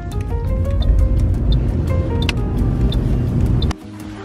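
Steady interior road and engine rumble from a car being driven onto a fast road, loud and continuous with faint ticks, cutting out abruptly near the end.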